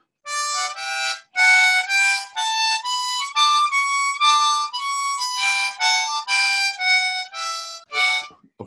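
Harmonica plays a slow stepwise scale, each note buzzy and impure with neighbouring reeds leaking in from not hitting a single hole, short gaps between notes.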